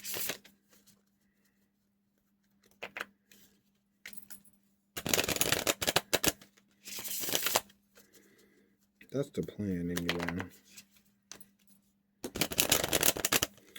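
A deck of reading cards is shuffled in several bursts of crisp riffling and flicking, loud and close, between quiet handling, with a brief spoken remark and a low steady hum in the background.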